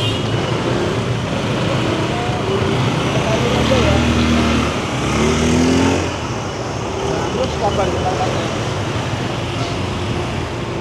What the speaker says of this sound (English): So we'll just see how the traffic is coming from this direction.